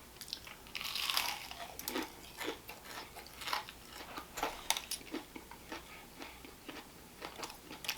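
Crisp, repeated crunches from biting and chewing fried onion rings, the bites coming in irregular bursts up close with no talking.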